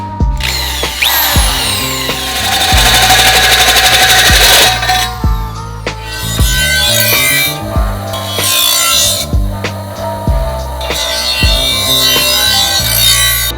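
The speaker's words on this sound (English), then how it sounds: "Now it's ready to get drilled." A power drill boring into a homemade intercooler, loud whining bursts that stop and restart several times, with grinding and rasping textures between runs; no talking.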